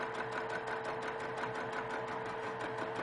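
A sewing machine runs steadily, stitching through quilting fabric with a fast, even mechanical chatter that stays close and constant throughout, with no voices.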